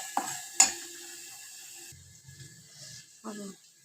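Masala roasting in a pan while being stirred: a couple of sharp scraping clicks, then a soft steady sizzle with brief rustling stirs, close and fairly quiet.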